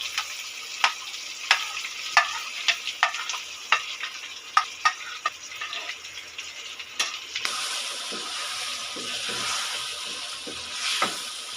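Eggplant puree hits frying chicken in a hot pan with a sharp sizzle, followed by repeated scraping stir strokes in an uneven rhythm, then a steadier hiss of frying.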